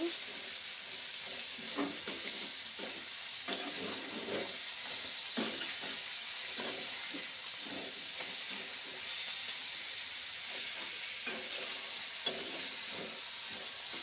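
Vegetables fry with spices in a pan, a soft, steady sizzling hiss broken by intermittent stirring scrapes, fairly quiet and continuous with no speech.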